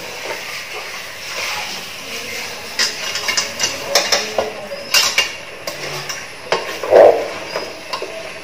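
Cooked beef being stirred into masala in a pot for beef biriyani, with repeated spoon scrapes, clinks and knocks against the metal over a steady background hiss, growing busier midway.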